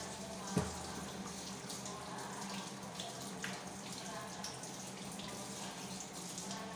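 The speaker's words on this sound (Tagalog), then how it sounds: "Hugasan po natin muna yung ating mga gulay, ang kamatis," Tap water runs steadily over vegetables such as tomato and ginger being washed in a sink before sautéing, a continuous close hiss of flowing water with one brief knock near the start.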